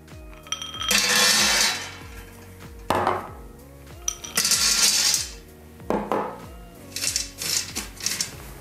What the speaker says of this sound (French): Je vais commencer par verser mes amandes et mes noisettes sur une plaque de cuisson